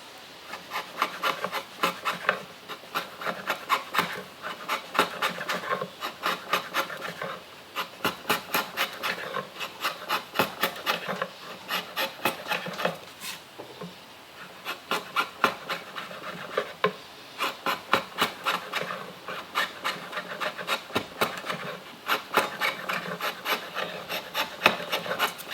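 Steady rasping and filing on stage floorboard wood while a guitar body carve is shaped, with repeated rhythmic strokes at close range running throughout without talk.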